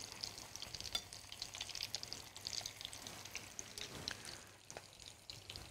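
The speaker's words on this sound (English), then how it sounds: "Oh, now you can hear the sizzling. Yeah, now you can hear it sizzle it," Spring rolls frying in hot oil in a kitchen give a steady, quiet crackling sizzle with small pops scattered throughout, with no voices.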